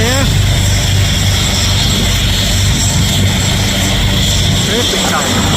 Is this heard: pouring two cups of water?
no